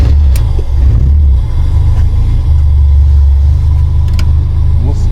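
A UAZ rally car's engine rumbles loudly up close, the throttle blipped so the low drone swells and surges before easing back.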